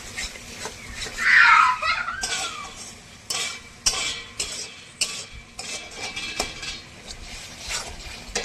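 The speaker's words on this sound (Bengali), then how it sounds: "কাশ্মীরি লঙ্কার গুঁড়োটা একটু বাজিয়ে দেবো, নাড়াচাড়া করতে থাকি" Kashmiri chili powder fries in a pan while a utensil stirs and scrapes it, giving soft sizzling under repeated close clinks and scraping taps.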